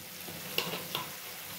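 Water splashing into a hot pan of sizzling greens curry with tomato, a couple of brief bursts of hiss and stir over a steady low frying crackle.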